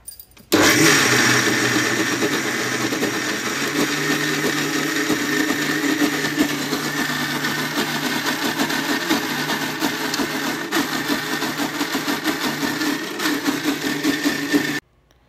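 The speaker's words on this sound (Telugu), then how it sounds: "మనకి మిక్సీలో బ్లెండ్ చేసే టైం కూడా చాలా తక్కువ పడుతుందన్నమాట" Mixer grinder blending quinoa and oats dosa batter, a steady loud whirring motor drone running continuously for about fourteen seconds before stopping abruptly, with no talk.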